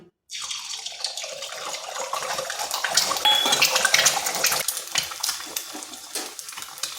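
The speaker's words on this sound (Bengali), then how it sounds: "ডিমটাকে ভেজে নিচ্ছি।" Two eggs frying in hot oil in a wok, giving a bright, close crackling sizzle with scattered pops and a few metallic scrapes, continuing steadily for several seconds.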